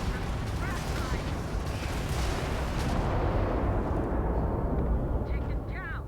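Heavy, continuous weapon fire rumbles and booms during a Starfield fight, dense and sustained throughout, with a voice speaking over the barrage.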